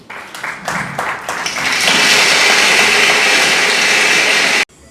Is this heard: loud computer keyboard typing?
no